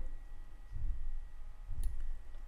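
A single computer mouse click sounds softly near the end, a brief close tap over a faint steady hum and low room rumble, with no one speaking.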